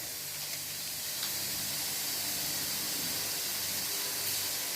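A steady, soft hiss of steam escapes as the lid comes off a pot of Jamaican-style red peas with pigtail and chicken foot, an even wash of noise lasting throughout with no voices.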